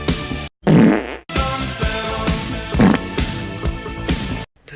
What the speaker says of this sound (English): On to the next fart.